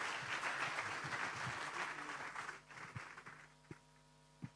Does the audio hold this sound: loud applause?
yes